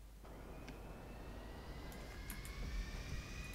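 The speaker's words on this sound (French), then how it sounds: "tu veux quand même pas prendre un avion" Airplane in the video game GTA 5, a steady low jet-engine drone with a faint whine, swelling slightly louder toward the end, with no talk.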